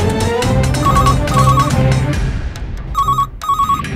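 A phone rings in repeated electronic tone bursts over background music, growing clearer toward the end as the music drops away.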